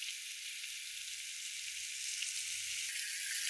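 Food sizzles steadily in a pan on a gas stove, a close, even crackling hiss that continues throughout with no talking.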